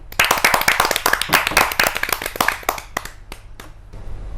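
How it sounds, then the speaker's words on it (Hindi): Audience at a Hindi kavi sammelan poetry gathering applauds to welcome a poet to the stage, brisk loud clapping that tapers into a few scattered final claps. "तालियों की गड़गड़ाहट से स्वागत कीजिए मनोज मिश्रा जी"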